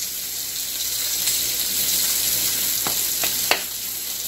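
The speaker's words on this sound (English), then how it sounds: "Now we've got our pork inside of our pot." Pork pieces fry in a pot, giving a steady, close sizzle with a few sharp clinks of a utensil against the pot toward the end.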